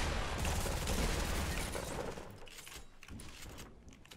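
Gunfire in the video game Fortnite: a dense, loud burst of rapid shots that thins and fades over a few seconds, with no voices.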